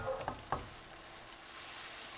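Okra curry with onions and tomatoes cooking in a pan gives a soft, steady sizzle, with a couple of faint clinks near the start and then an even simmering hiss.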